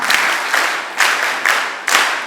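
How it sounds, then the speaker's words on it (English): Audience applause at a female student leaders' conference, loud continuous hand clapping that surges in rhythmic waves roughly every half second, with no talking heard. "Let's give them a hand clap."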